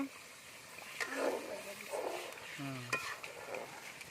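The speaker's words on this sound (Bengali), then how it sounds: "ভালো করে নাড়া দেন" A spoon scrapes and stirs chicken biryani masala in a pot, giving soft, irregular stirring sounds with a few clinks, fairly quiet, with a faint sizzle underneath.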